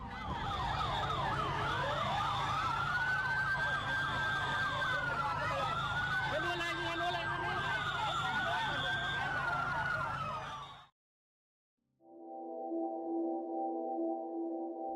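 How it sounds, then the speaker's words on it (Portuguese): Wailing fire engine sirens cycle up and down continuously for about ten seconds over road noise, then cut off briefly before a steady electronic tone follows. "Quando os bombeiros finalmente chegaram"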